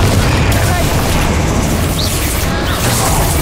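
A Confringo curse explodes in Hogwarts Legacy, a loud fiery blast with a rumbling low boom and crackling burst, while a voice speaks over the action.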